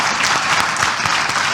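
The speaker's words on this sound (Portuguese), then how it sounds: "Vamos dar uma salva de palmas para Jesus." Church congregation applauding together, a dense, steady burst of clapping that stays loud and even for its whole short length, with no voices over it.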